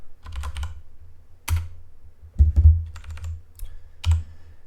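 Keys clatter on a computer keyboard as code is typed, in short quick clusters separated by pauses, close and fairly quiet in an otherwise still room.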